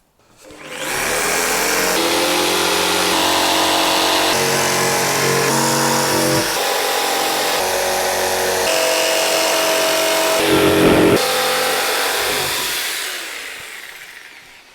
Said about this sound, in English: Now, jigsaw time.